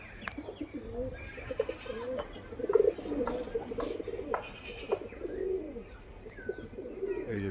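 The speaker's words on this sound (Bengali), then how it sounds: "এই যে দেখুন পায়রা" Domestic pigeons kept by a fancier coo in soft, repeated low calls close by, mixed with a few chirps and faint background voices.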